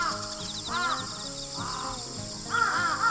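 Loud crows call in the morning outdoors, harsh caws spaced through the stretch with a droning insect-like hum underneath.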